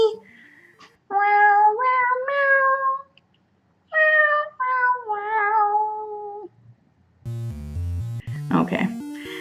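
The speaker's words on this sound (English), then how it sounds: "Cat singing isn't for everyone." A cat meows in long, drawn-out, song-like phrases, loud and close, in two clusters separated by silence, then a burst of synthetic tones and noise follows.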